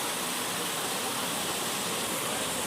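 Kapila Theertham water falls from the hills into a temple pond, a steady, dense rush of falling water with no breaks, moderately loud and alone.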